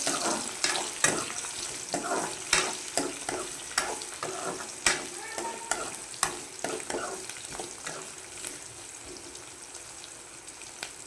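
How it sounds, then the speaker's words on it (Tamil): Garlic sizzles in a hot pan for a chutney, with a steady frying hiss and repeated clinks of a spatula stirring it, close and moderately loud. "பூண்டையும் போட்டு நல்லா வதக்கிட்டு"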